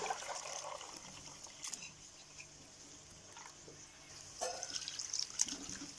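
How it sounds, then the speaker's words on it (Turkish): Curdled milk curd is poured into a cloth bag set over a strainer, making a quiet, wet trickle and soft dribbling of whey with a few faint splashes. "torbamın içerisine çökeliğimi döküyorum"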